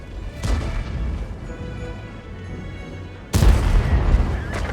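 An HE shell fires at a Gorilla tank in World of Tanks, a sudden heavy boom that lands midway after quieter rumbling and scattered shots, followed by a crashing, ringing tail.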